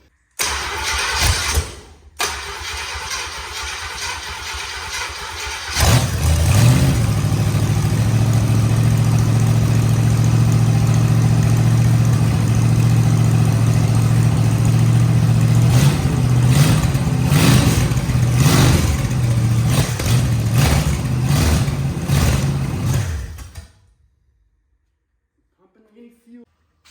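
An old International 345 V8 cranks, catches and roars into a loud, steady run with several revs rising and falling, then shuts off abruptly into silence.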